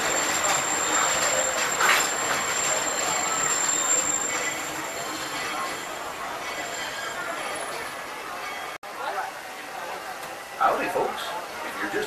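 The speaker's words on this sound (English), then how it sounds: "the train comes to a full and complete stop" The Walt Disney World Railroad train at Magic Kingdom rumbles steadily along the tracks with broadband rolling noise and faint metallic squeals, fading slightly near the end as an announcer's voice talks over it.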